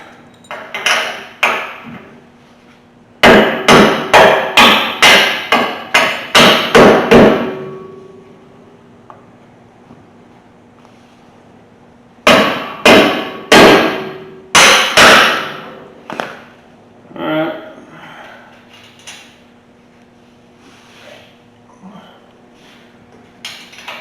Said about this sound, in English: You gotta get a little dead blow or something and tap them in.